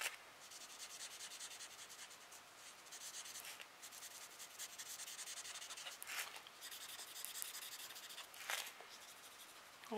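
A pencil colouring on a paper card gives a steady dry rubbing and scratching, close and fairly quiet, in continuous strokes with brief pauses.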